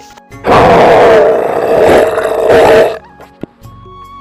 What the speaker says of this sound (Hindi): भालू अपना दहाड़ मार देता है